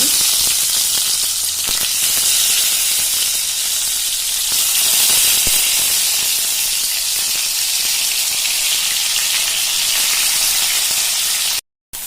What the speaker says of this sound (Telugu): ఈ ఆయిల్లో వేసుకోవాలి వంకాయల్ని ఇలా వేసుకొని కొంచెం మగ్గనివ్వాలి